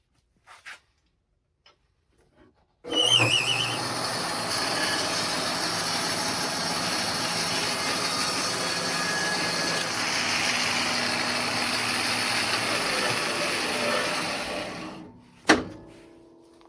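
A bandsaw runs a long steady cut along the fence through half of a log to flatten one side, a loud continuous whining roar lasting about twelve seconds before it cuts off, with a few faint knocks before and after.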